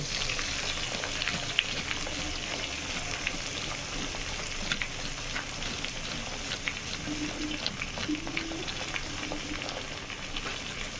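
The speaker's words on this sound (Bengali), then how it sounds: "দিয়ে এবার ভালো করে এগুলোকে একসাথে ভাজবো।" Cumin, coriander and chili powder frying together for a snakehead fish curry with potato and tomato, a dense, continuous rain-like sizzle with small crackles throughout, close and steady, without any voices.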